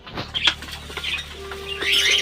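A young pigeon flaps its wings in a few quick bursts nearby, with faint chirps and light clinks in a quiet home setting.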